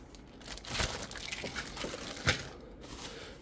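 Plastic bags crinkle up close as small TOMY Tomica Thomas & Friends toy trains are packed away, quiet rustling with a few sharper crackles and no talking.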